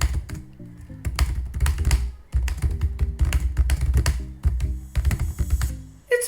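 Rapid typing on the keyboard of an Asus Vivobook Pro 14 OLED laptop, loud close clatter of keystrokes in quick irregular bursts with brief pauses, heard alone without talking.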